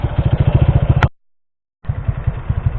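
A Kawasaki KSR 110 minibike engine chugs with a rapid, uneven single-cylinder putter, cuts out abruptly to silence for most of a second, then resumes running close by.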